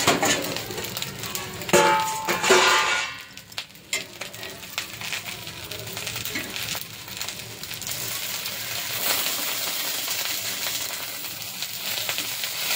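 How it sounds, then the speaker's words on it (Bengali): A lid clangs down onto a pan of sliced paneer paturi cooking on the stove, with a loud metallic clatter early on, then a steady soft sizzle of frying continuing underneath. "এবার ঢাকা দিয়ে দেবো, ঢাকা দিয়ে দেবো 5 থেকে 7 মিনিট ঢাকা থাকলেই হয়ে যাবে।"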